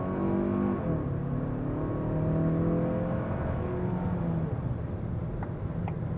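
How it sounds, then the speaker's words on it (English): A 2027 Kia Telluride Hybrid accelerates hard onto the highway with the throttle floored; the engine note rises in steady, climbing harmonic sweeps under road and wind noise inside the cabin. "Go ahead and throw it into this corner and do a highway acceleration."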